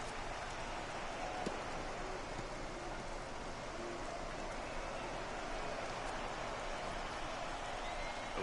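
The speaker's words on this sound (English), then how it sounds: "the rain starting to intensify here. It's coming down a little heavier now." Rain pours down steadily at an MLB playoff baseball game, a constant, even hiss of heavy rainfall that fills the whole stretch with no break.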